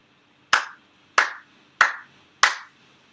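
Four ritual hand claps at a Konko faith ceremony, sharp and evenly spaced about two-thirds of a second apart, each ringing briefly in a quiet room with no talk.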